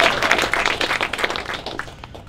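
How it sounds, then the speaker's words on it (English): A crowd claps steadily in dense applause, many hands at once, fairly loud and without talk. "Applause for that."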